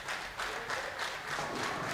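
Audience applause at a Pro-Motion Tour bowling match in Angers, a steady dense wash of clapping from a crowd, moderately distant and sustained without pause.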